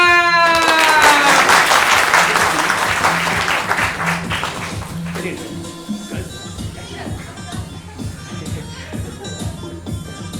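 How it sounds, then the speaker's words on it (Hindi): Audience applause greets a leader arriving on stage in a comic Hindi stage drama, a loud sustained clapping wash at first that thins into scattered claps and crowd shuffling, with a voice calling out over it. "नेताजी आ गए हैं, तालियां।"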